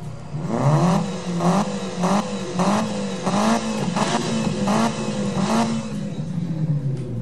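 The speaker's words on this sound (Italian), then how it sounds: "la Lancer ha uno dei rumori più belli che io abbia mai sentito in generale" A Mitsubishi Lancer engine in a Need For Speed video game revs repeatedly in quick bursts, pitch rising and falling in a steady cycle, loud and close with no talking.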